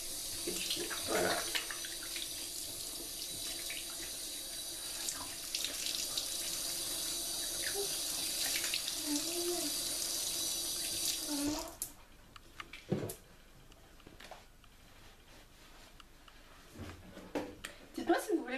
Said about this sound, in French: Après je rince à l'eau tiède.